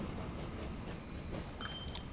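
A train runs at high speed in the Transport Fever 2 video game, a faint, steady rumble of rolling wheels with a few short high squeals near the end and no talk.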